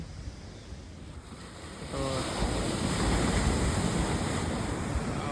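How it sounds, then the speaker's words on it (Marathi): Sea waves at a Navi Mumbai beach wash in as a steady broad roar that swells louder after a quieter start, with gusts of wind buffeting the microphone and no voices. "लाटा बघा काय समुद्राच्या"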